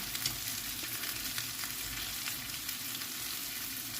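Food sizzles and crackles steadily in a covered pan over high heat, a continuous bright hiss with small pops, no voices.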